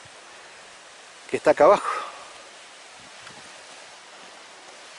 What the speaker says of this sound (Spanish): Y ya sentimos la cascada que está en este cañadón